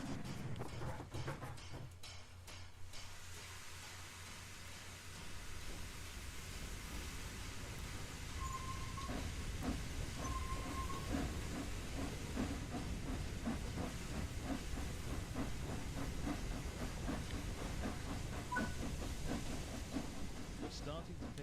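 A steam locomotive starting off with wheel slip in the video game Train Sim World 4 makes a steady hiss of steam under fast, rapid chuffing beats, heard at a moderate level throughout.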